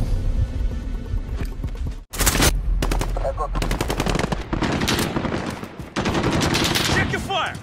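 Rapid bursts of automatic gunfire crackle almost continuously in a shooter video game, loud and close, with several players shouting over the shots.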